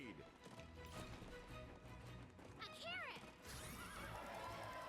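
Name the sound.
horse neighing and hooves in video game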